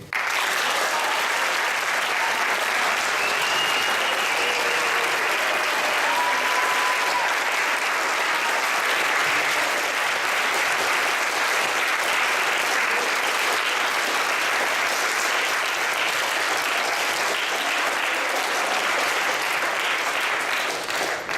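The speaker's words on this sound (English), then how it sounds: "One round of applause for Daniel" Steady, sustained applause from an audience at a marching band ceremony, dense and even throughout with no pauses, a full room of hands clapping together at a moderate distance.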